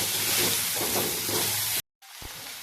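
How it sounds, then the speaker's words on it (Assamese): Potato pieces frying in a pan for a vegetarian papaya flower dish, a steady close sizzle that cuts out abruptly near the end and then resumes more faintly. "এতিয়া কেৱল আলুখিনি এনেকৈ ভাজিলোঁ"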